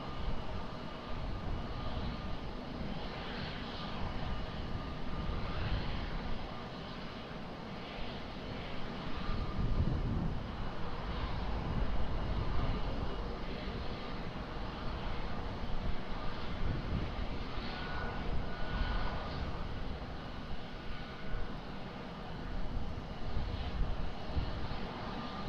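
An airliner roars on takeoff from runway 20 at Lisbon Airport, a steady broad engine rumble lasting throughout, moderately distant and swelling slightly midway, with no talk over it.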